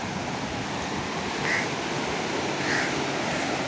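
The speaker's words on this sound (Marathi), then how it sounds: "खाली असा समुद्र आहे" Sea surf below a seaside temple on the Konkan coast at Jaigad, a steady wash of waves with soft swells, heard at a distance with some wind and no talk.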